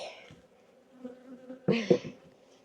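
Honeybees at an open, crowded hive buzz in a low steady drone, with a louder, closer swell of buzzing near the end of the short clip.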